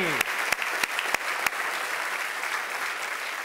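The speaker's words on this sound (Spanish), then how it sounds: "Denle ese aplauso fuerte a ellos." A church congregation claps in a broad, sustained wash of applause, with a few sharper nearby claps standing out at the start before the sound settles into an even, continuous roar.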